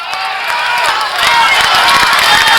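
A large crowd at a 2003 high school football game, Winder Barrow against Westlake, cheering loudly and continuously for the home defense, a broad roar filling the stands from start to finish.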